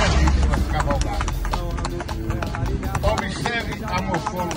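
Hooves of a four-year-old stallion moving in the marcha picada gait, a quick, steady clip-clop of footfalls close by, fairly loud, with a faint whinny-like note under it.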